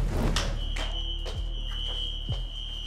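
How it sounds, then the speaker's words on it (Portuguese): A building fire alarm gives a high, steady electronic tone, ringing continuously indoors, with a few thumps and knocks underneath. "o alarme do prédio de incêndio disparou"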